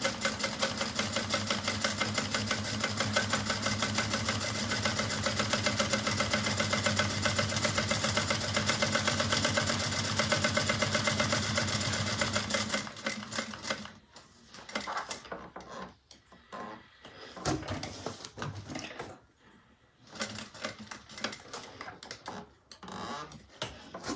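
A sewing machine top-stitches vinyl on a bag, running in a fast, continuous buzzing whir for about thirteen seconds, then going on in shorter stop-start bursts with pauses between them.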